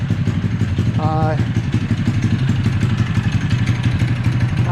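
A cyclekart engine fitted with a torque converter and aluminum flyweights runs loudly and close throughout a ride, a steady throbbing mid-pitched drone with rapid rhythmic pulses, heard from the cockpit.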